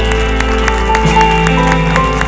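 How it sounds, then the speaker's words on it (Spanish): A church congregation claps for the Lord during a worship service, a steady, rhythmic clapping heard over sustained instrumental tones for a couple of seconds. "Vamos a darle un fuerte aplauso al Señor."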